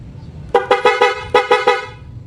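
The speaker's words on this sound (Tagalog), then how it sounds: "Tapos naka dual horn setup to mga sir." A loud aftermarket horn on a Raider FI motorcycle blasts in rapid bursts, three honks, a brief gap, then three more, each sharp and brassy.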